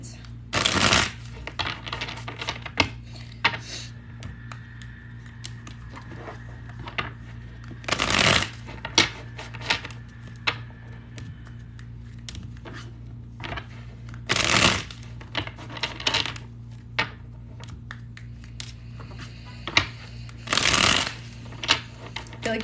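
Tarot cards being shuffled during a live reading, heard as four loud riffling bursts spaced several seconds apart, with softer card handling and faint tapping between them over a steady low hum.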